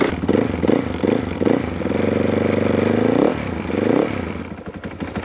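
A supermoto motorcycle engine up close, revving in short bursts, then holding a steady drone before dropping back and revving again; loud and alone.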